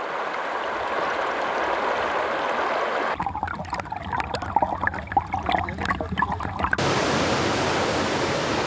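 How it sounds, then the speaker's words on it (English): Brooks and rivers flow into a valley near the Orange River in southern Africa, heard as a steady, even rush of water. Midway it gives way for a few seconds to a rougher, crackling clatter before the smooth rush returns. "Countless brooks and rivers flow into the valley and the Orange River, the biggest river in southern Africa."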